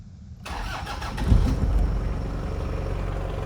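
Toyota Land Cruiser 1HZ turbo diesel engine cranking briefly and catching, then settling into a steady, close clattering idle.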